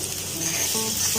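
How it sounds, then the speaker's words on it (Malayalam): Onions, garlic and curry leaves sautéing in oil for Kerala-style kadala varattiyathu, a close, dense, steady sizzle with bright hissing. "നല്ലപോലെ എണ്ണയിൽ കിടന്ന് കുറച്ച് നേരം വഴട്ടെ."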